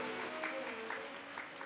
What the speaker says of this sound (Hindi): एक बार जोरदार ताली बजाकर उनका स्वागत करिए।